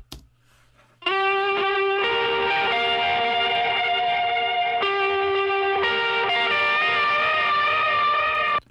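Electric guitar played through a blend of distortion and reverb pedals, sustained chords ringing loud and continuous after a brief quiet start, with a couple of changes midway.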